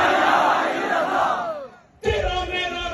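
A large crowd at a political rally in Pallandri, Kashmir shouts slogans back in unison. The roaring chant is loud, fades into a short pause and then surges again with another mass shout.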